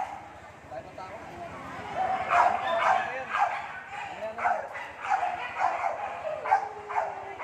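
A small Pomeranian dog barks repeatedly in sharp, high yips, fairly close, mixed with whimpers while people talk in the background.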